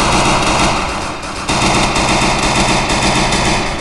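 Heavy, continuous automatic gunfire in the Free Fire video game. Dense, loud bursts run almost without a break, with a brief dip partway through.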